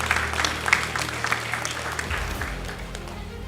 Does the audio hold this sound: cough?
no